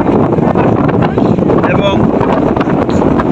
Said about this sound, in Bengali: বাতাস প্রচণ্ড বাতাস মনে হচ্ছে ঝড়ের গতি